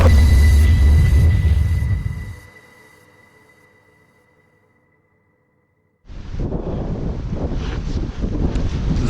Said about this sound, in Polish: Jest dzisiaj niebezpiecznie, bo normalnie taki wiatr.